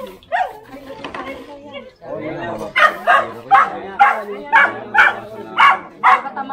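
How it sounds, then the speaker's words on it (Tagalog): A dog barks in a steady series of loud, close yaps after a few scattered earlier barks and whimpers, at a demolition site in the Philippines; people talk in the background. "Ayan, ingay ng aso."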